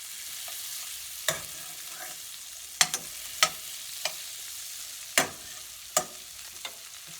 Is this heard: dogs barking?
no